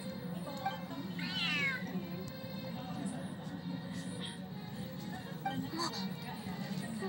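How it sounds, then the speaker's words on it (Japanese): A large cat meows in a video game, a rising, wavering cry near the start followed by softer mews, with quiet game background ambience underneath. "頭のいい猫ね。"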